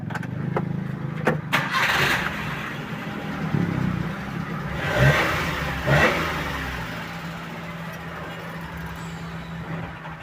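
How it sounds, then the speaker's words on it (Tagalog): A car engine idles rough and steady, then dips and sputters near the end of a brief rev, as if dying under braking; a mechanical whir sits close under the idle with no talk. "Pag-apak ng preno, pag-apak ng pedal, sa preno, mamatay ang makina."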